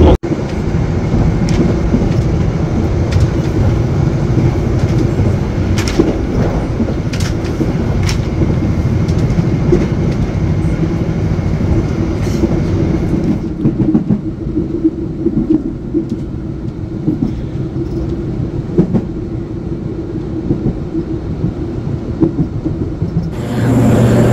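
Heavy, continuous rumble of the Brawijaya passenger train rolling and slowing into Pekalongan station, loud and close, easing off toward the end.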